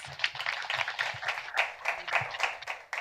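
Audience applause following an evening pitch at a hangout event, fairly faint and distant clapping from a small group, steady for about three seconds.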